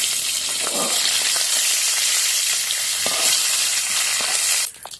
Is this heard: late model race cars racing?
no